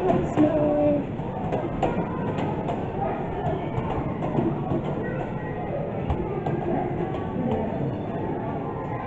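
A miniature train rumbles into Kingmere station on a narrow-gauge line, a continuous close mechanical rumble and clatter with faint wheel squeaks, steady throughout.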